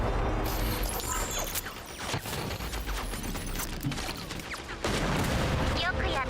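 Rapid video game gunfire from a fantasy exploration game, dense bursts of repeated shots and booms filling the clip under a busy mix of effects and music.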